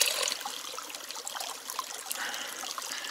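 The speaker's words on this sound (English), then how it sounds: "I cut off the bottom of a water bottle and just fill my pouch that way" Water trickles and splashes steadily from a cut-off plastic bottle into a soft pouch outdoors in the wilderness, a close, light pour lasting a few seconds with no voices.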